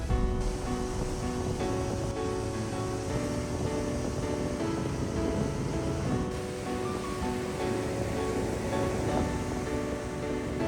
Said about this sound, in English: I just enjoy that sound of the sea, the sound of water.